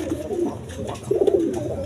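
Rasgolla pigeons at a farm loft give close, throaty rolling coos in two short bursts, fairly loud against light background noise.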